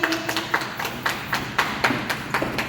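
Scattered hand claps for a young child named Ishira at a small gathering, a handful of sharp claps spaced irregularly with faint background voices.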